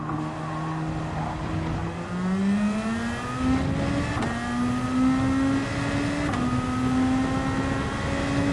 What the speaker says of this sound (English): I like how the turbo sounds on this car.